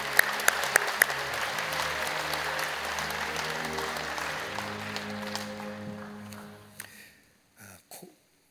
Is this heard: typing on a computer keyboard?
no